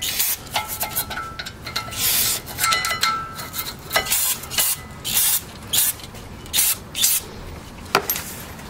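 Rear brake part on a 2015–18 Land Rover Discovery Sport being cleaned, with repeated short bursts of spraying and scrubbing/rubbing at close range, spaced irregularly and no talking.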